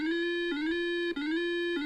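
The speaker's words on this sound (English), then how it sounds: "Okay, there are sirens and everything." A looping electronic alarm siren from the video game Space Quest 2, a steady rising tone that resets roughly every half-second, thin and synthetic, heard alone at moderate level.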